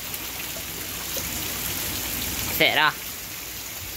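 Steady rain falls throughout as a continuous broadband hiss, with one brief spoken word near the end.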